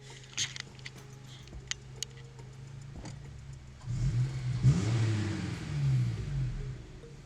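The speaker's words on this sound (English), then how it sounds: "I really love how this car sounds." A Honda car engine idles low and then revs up, rising and falling for a few seconds, with a few small clicks and taps beforehand.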